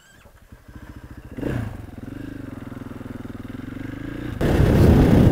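A 500cc supermoto motorcycle idles with a chugging single-cylinder pulse, then revs and pulls away, its engine note rising as speed builds before loud wind rush swamps it near the end.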